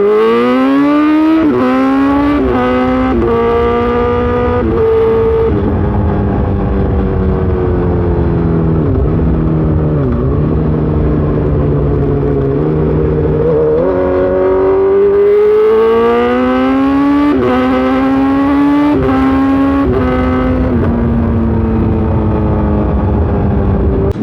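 A Honda CBR1000RR superbike engine revs loud and close for the whole stretch, with pitch sweeping up and down through several throttle blips and long rising pulls. No talk over it.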